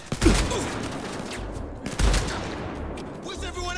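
Shotgun blasts in the Blood & Truth video game: two heavy booming shots about two seconds apart, each followed by a decaying rumble, with a voice speaking briefly near the end.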